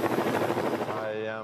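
A traffic reporter's helicopter gives a loud, close, rapid rotor chop that throbs steadily, then eases into a smoother engine whine.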